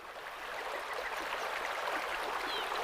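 A springtime creek in Spain flows over rocks, giving a steady, even rush of water close by, with no voices.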